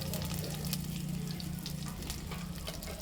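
Chopped onions fry in oil in a clay pot, giving a steady, close sizzle with faint stirring scrapes throughout and no voices.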